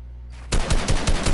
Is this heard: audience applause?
no